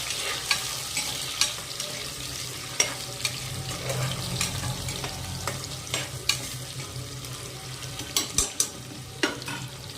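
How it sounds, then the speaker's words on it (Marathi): Tomato and onion frying in a pan, a steady close sizzle broken by repeated spoon scrapes and clinks as the mixture is stirred. "1 टमाटा, आपण फ्राय करून घेऊया सगळं"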